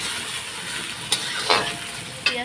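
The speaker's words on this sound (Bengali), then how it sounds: "এখন এর মশলাটা মানে পেঁয়াজটা ভেজে নেবো আগে" Chopped onions frying in a pan with whole spices, a steady close sizzle with a few sharp stirring scrapes and spatters breaking through.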